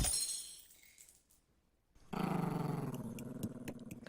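A dog in an animated horror story growls low and rough after a short silence, a close, sustained snarl that swells and holds with some crackling grit.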